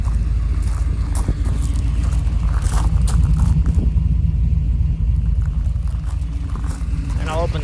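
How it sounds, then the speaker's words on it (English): A Trailblazer SS with a 408ci LS2 stroker and Doug's Headers idles with its exhaust cutouts closed, giving a loud, steady, deep rumble that holds throughout, close to the listener. "So this is just idling with the exhaust fully closed."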